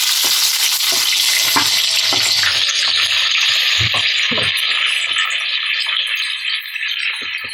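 Chopped onions fry in hot oil and desi ghee with a loud, continuous sizzle, while occasional stirring scrapes and knocks of a spoon against the pan come through close by.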